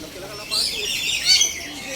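Pigeons at their nest in Cebu province give bright, high chirps in short bursts, close by, with a voice murmuring faintly underneath.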